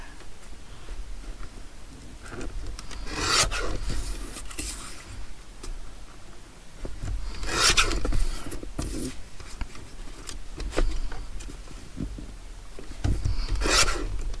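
Paper is trimmed along a straight edge to make a journal card, giving rasping cutting strokes in three main bursts, spaced several seconds apart, over quiet room noise with no talking.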